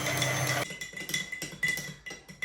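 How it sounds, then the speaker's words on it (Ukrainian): A whisk clinks and scrapes rapidly against a bowl, whisking sour cream with sugar in repeated strokes, a busy, close-up mixing clatter with no voices. "сметанку з цукром я вже перемішав, збив"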